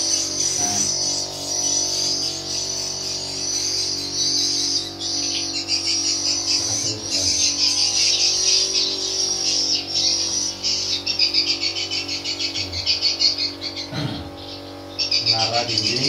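Swiftlets chirp continuously around the tower of a small 5x5 metre one-storey swiftlet nest house, a dense, steady chatter of high calls lasting throughout, with insect-like buzzing and no talking.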